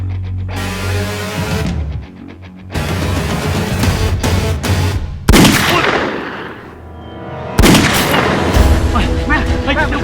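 Heavy gunfire erupts near a village beyond a coconut grove, loud booming bursts with long reverberant tails punctuating continuous noise, while voices shout underneath.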